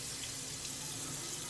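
Water pours steadily from a tap into a sink, a close, even rushing hiss with no pauses and no talk.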